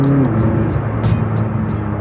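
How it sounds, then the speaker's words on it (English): McLaren 600LT coupe exhaust sounding loud and close, a steady low engine drone with a rising tone early on and short crackling pops repeating through the note. "We need more cars with exhaust like that."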